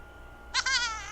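A single cartoonish, wavering squawk from an Angry Birds game character, tapped on an Optimus V phone, starting abruptly and trailing off within about half a second, alone against faint background hiss.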